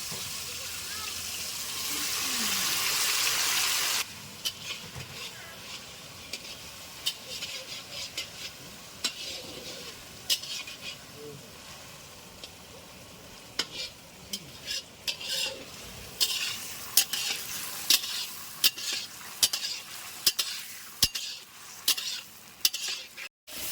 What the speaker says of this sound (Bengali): এই যে মিঠু এখন আমার জায়গা নিচে আলু ভাজছে।